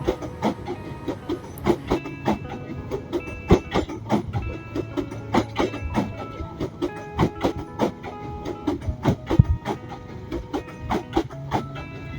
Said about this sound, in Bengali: ঠিক তখনই ভাগ্যক্রমে একটি ট্রেন চলে এলো